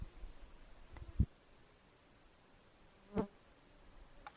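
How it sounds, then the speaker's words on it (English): Insects buzz outdoors on a still day without wind, with a couple of brief buzzing passes close by against a faint, quiet background. "No breeze. Bugs are out."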